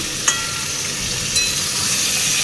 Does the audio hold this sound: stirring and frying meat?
yes